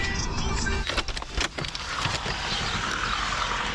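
Inside a taxi travelling through Bosnia, a steady engine and road rumble fills the cabin, with a few brief mechanical clicks and rattles near the middle. A faint voice may be present under the noise.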